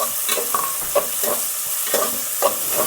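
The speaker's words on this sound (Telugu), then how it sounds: "ఆనియన్స్ కొంచెం ఫ్రై అయ్యాయండి." Onions frying in a pan for an Andhra-style ridge gourd mutton curry, a steady hiss of sizzling oil broken by repeated scraping strokes of a spoon stirring, close and loud.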